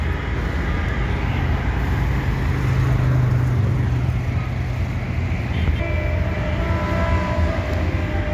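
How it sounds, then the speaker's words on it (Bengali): A train runs below the Kuril flyover, heard as a continuous heavy rumble that blends with steady road traffic noise from the elevated roadway, loud and sustained throughout. "ওই যে ট্রেন যাইতেছে নিচ দিয়ে"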